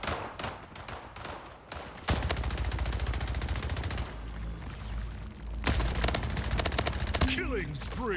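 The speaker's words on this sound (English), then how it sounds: "This SMG does wonders." An SMG in the arena shooter Splitgate fires in long, rapid bursts: dense, loud automatic gunfire with short pauses between strings, amid game effects.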